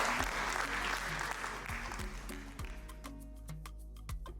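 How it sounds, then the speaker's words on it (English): An audience at a Merck Foundation inauguration event applauds the First Lady of Burundi, a steady wash of clapping from many hands that thins toward the end into scattered individual claps. "Another round of applause for the First Lady of the Republic of Burundi."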